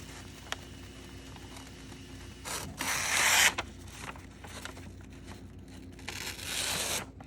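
A knife edge, freshly sharpened on a Willet pocket sharpener, shaves through paper in two close, scratchy slicing passes with a soft papery rasp, separated by a pause with no talking.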